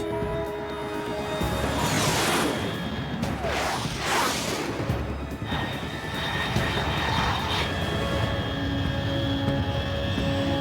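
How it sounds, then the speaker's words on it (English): A fast aircraft roars overhead in Metal Gear Solid 3, a steady loud engine rumble with rising and falling whooshing passes, close and continuous with no talk. "Unidentified aircraft detected."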